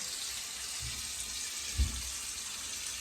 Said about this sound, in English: In 1 minute, all they heard was water.